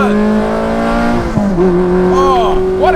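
Ferrari supercars fitted with Capristo exhausts driving in a group, a loud droning engine note that rises and shifts pitch, with clear whining harmonics and a passing rev near the end.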